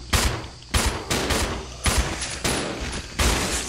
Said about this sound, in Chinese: 开枪了啊！